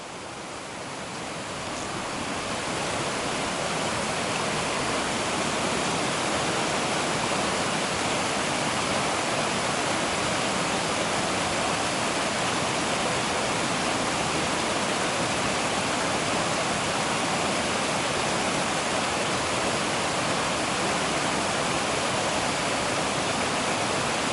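The Sandy River near Ramona Falls, Oregon rushes in a constant, loud, broadband roar of flowing water, steady throughout with no voices.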